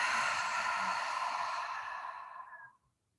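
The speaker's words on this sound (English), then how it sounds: "And open the lips to exhale" During a yin yoga session, a long, deep exhale flows through open lips, a close, breathy rush that trails off and fades into silence.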